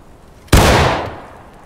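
A musket fires in the Civil War game War of Right: one sharp, loud close report after near silence, trailing off in a rolling echo.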